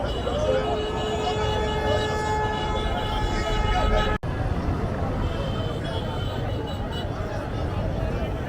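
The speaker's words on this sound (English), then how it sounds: "You can see the blue line train just passing by" A Blue Line light-rail train passes a construction site at the Mile 2 interchange in Lagos, giving a steady broad rushing rumble with faint high tonal whines, while a voice talks over it.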